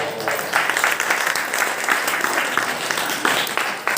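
Listeners at a religious discourse by Jain monks clap in a lively, uneven burst, individual hand claps standing out within sustained applause for a few seconds.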